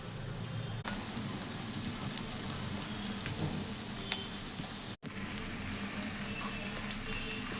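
Onion, garlic, dried red chillies and curry leaves fry in oil for a chicken sherva, making a dense, steady sizzle close by with crisp crackles throughout and one brief dropout.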